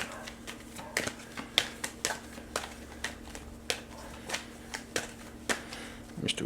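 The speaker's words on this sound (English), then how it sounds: "Let's do a quick shuffle." A deck of tarot cards being shuffled in a quiet room, giving a steady series of soft riffling snaps and taps spaced roughly half a second apart over a faint constant hum.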